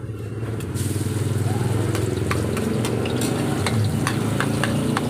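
Garlic frying in hot oil in a pan, a steady close sizzle with occasional clinks and stirring taps over a low droning hum, continuous and loud throughout.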